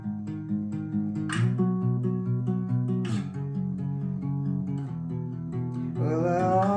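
Acoustic guitar playing the verse of a song, the same part as the first intro guitar, with steady strummed chords and sharp accents near the start and middle, close and alone.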